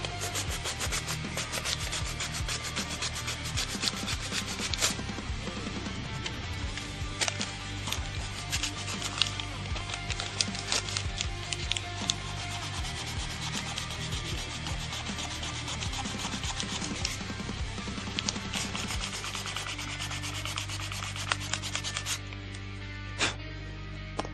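Hand sanding a 1911 service model pistol with sandpaper, a steady close rasping rub that runs continuously with brief louder strokes, no talking.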